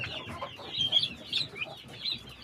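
Turkey poults about a week old chirp and cheep continuously in a busy cluster, close by, with overlapping peeps and soft clucks.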